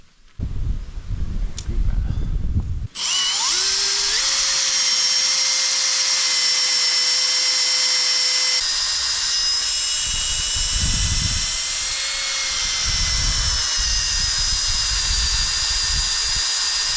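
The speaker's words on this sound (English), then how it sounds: "I'm gonna make a little pre-hole for it to be a bit easier." Power drill boring a pilot hole into dense birch wood: after a brief clatter, a loud sustained high whine starts abruptly and holds steady with a slight dip midway, with low thumps and rumble beneath.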